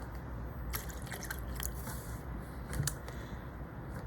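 Vinegar poured into a glass of Dr Pepper, giving a steady fizzing hiss with scattered small drips and crackles, close and moderately loud throughout.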